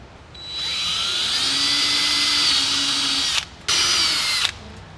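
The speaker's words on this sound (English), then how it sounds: "take your 8mm drill bit and your drill and punch some pilot holes in there" A power drill with an 8mm bit bores pilot holes for a splitter kit on a Hyundai i20N, a high steady whine running for about three seconds, a brief pause, then a second shorter burst.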